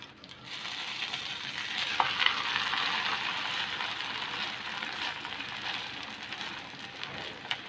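An egg paratha fries on a pan after being flipped, giving a continuous close crackling sizzle with small pops, steady and loud with no talk.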